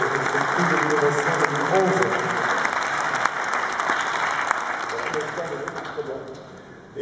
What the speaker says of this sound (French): Je demande d'applaudir notre amis, Boursorama, pour ce prix de l'innovation